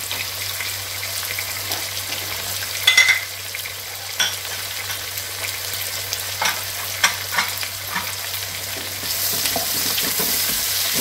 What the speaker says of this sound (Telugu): వేగాలి మరీ బ్రౌనిష్ కలర్ గా వేగక్కర్లేదు ఉల్లిపాయలు పులుసుకి